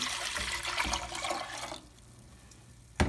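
Water being poured back into a pan while making Ghanaian wagashi cheese, a close splashing, gurgling pour that stops partway, followed by quiet and a brief clunk at the end.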